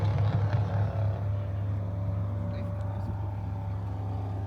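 A turbocharged Subaru drives by amid steady road noise, a low engine drone dominating throughout, louder in the first second and then holding at a constant level with faint voices underneath.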